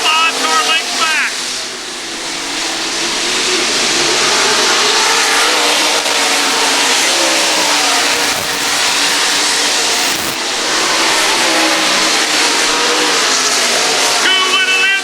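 305 sprint cars race around a dirt oval at a county fair, a loud continuous roar of revving engines swelling and fading as the pack passes, with a race announcer talking over it.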